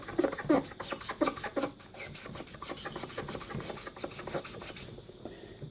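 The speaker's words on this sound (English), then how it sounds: "I'm going to have to be careful because I don't want to magic erase the Compaq logo" A magic eraser rubs over scratches around the logo on a Compaq Armada M700 laptop lid, giving a steady, close, scratchy rasping of quick back-and-forth strokes, with no talk.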